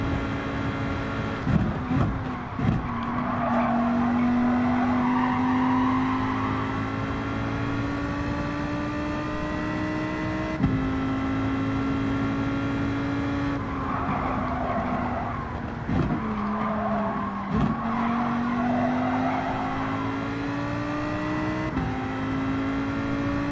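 Race cars in Gran Turismo 7 daily racing, including a Porsche Cayman Club Sport, a sustained engine drone rising through the gears with brief tire skids and shifts, heard alone.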